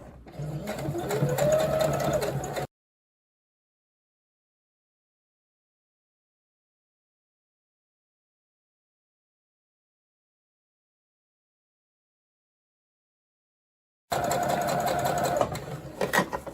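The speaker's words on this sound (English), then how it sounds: "Okay, keep sewing." Sewing machine stitching a cushion cover runs in a steady, close mechanical whir for a couple of seconds, falls silent for a long stretch, then starts whirring again near the end.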